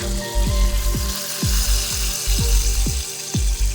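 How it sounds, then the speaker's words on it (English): Steady sizzling and crackling of a lamb burger patty frying in a hot pan, with a rhythmic low thumping beneath the hiss. "So as you can hear, it's cooking on this side."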